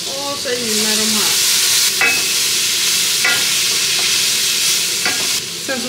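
Vegetables sizzle loudly in a hot frying pan as they are stirred, with a steady bright hiss and a few light utensil scrapes and clinks against the pan.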